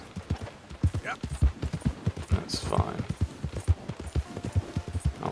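Horse hooves clip-clopping at a steady trot in Red Dead Redemption 2, a close, regular rhythm of hollow thuds running throughout, with someone talking briefly over them.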